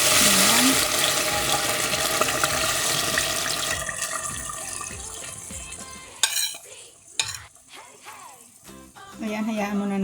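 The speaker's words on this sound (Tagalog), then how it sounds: "ihuhulog na natin ang ating marinate" Pork belly adobo marinade hits a hot pan with olive oil, setting off a loud, steady sizzle and bubbling that fades into quieter spattering with a few sharp clanks. Someone speaks over it.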